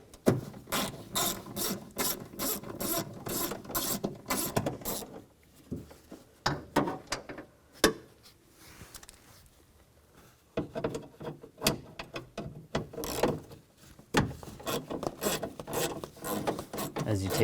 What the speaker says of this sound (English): You can use a 10mm socket.